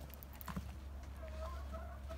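Clucking and short calls from a rooster or chickens on a country property, fairly faint over a steady low hum, with brief voice-like sounds mixed in.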